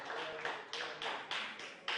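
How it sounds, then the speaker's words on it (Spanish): A church congregation claps together in a dense, steady burst of applause, with rhythmic surges roughly every half second, loud and close throughout. "Denle un aplauso al Señor."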